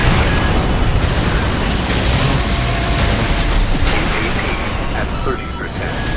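Explosion in the mech combat video game Armored Core 6, a loud, sustained broadband roar of blast and rumble filling the whole stretch, tapering slightly at the end.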